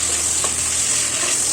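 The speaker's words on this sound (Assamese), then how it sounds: "তাৰপিছত মই মিডিয়াম ফ্লেমত লাহে লাহে এনেকৈ ফ্ৰাই কৰি আছোঁ।" Steady, loud sizzling of chicken stew vegetables, carrots, beans and chopped potatoes, frying on a medium flame, a continuous close hiss with faint stirring and no talking.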